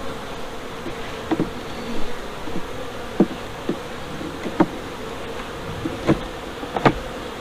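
Honeybees buzz around the yellow hive at Cole's Farm in a low, steady hum, with occasional louder bees passing close and faint knocks from frames being handled.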